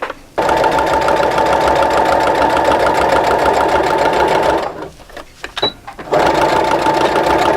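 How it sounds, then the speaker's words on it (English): A sewing machine stitching an invisible zipper onto a pillow cover runs in a loud, close, steady whir, pauses briefly with a few clicks, then resumes stitching. "go ahead and start stitching"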